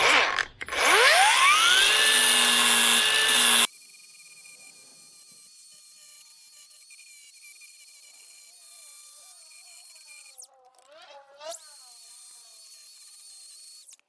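A handheld grinder used for repairs on a Cub Cadet 1022 ride-on mower spins up loudly with a rising whine, runs for about three seconds and cuts off, leaving a faint background hum and a brief clatter.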